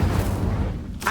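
A fire spell cast in a Harry Potter video game, a loud, dense rumbling whoosh of flame that fills a short moment and ends with a brief brighter burst.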